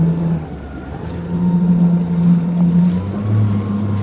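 Steady motor drone of a jet ski skimming choppy water at Subic in the Philippines, with wind and slapping spray throughout; the engine pitch shifts slightly as it rides.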